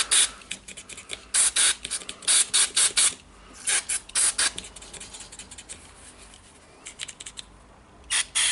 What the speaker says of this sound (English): I think I will use some brake cleaner here.